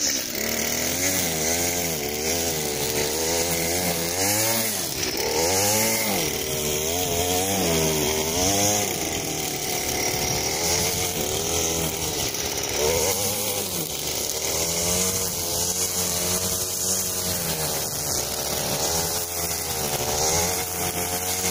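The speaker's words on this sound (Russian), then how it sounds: "И увидите, как я работаю косой." A motorized grass trimmer mows grass in a countryside yard, its engine a loud, close, continuous drone that wavers in pitch as it cuts, with no talking.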